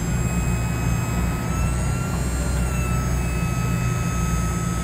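An F22740 crane rotating on its base produces a steady, loud mechanical drone with a deep low rumble and a few constant high whining tones, continuous and unchanging throughout.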